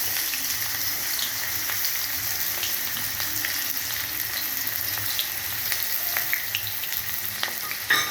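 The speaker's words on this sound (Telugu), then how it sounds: "ఇప్పుడు ఈ ఆనియన్స్, కట్ చేసుకున్న ఆనియన్స్ ఈ ఆయిల్లో వేసుకోవాలి" Chopped onions fry in plenty of hot oil for a taro root fry, a dense, even sizzling hiss with faint crackles, close and continuous without talk.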